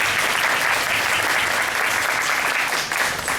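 Sustained audience applause fills a Dallas Area Habitat for Humanity Women Build gathering, a dense, even wash of clapping that stays loud and steady throughout.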